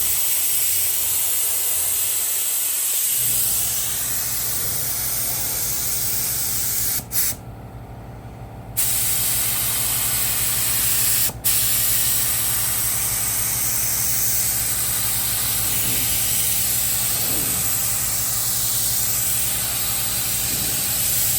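Rattle can spray paint hissing onto a surface in long, loud, close bursts, with two short breaks partway through and a low engine idle droning underneath.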